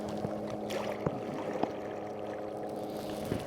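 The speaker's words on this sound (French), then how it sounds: "Alors, que donne ce moteur sous l'eau?" An electric kayak motor runs underwater, heard up close as a steady low hum with a constant tonal drone, bubbling water and occasional faint knocks.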